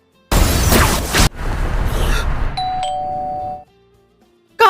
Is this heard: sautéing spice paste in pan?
no